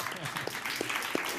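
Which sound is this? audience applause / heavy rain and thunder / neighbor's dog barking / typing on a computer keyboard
audience applause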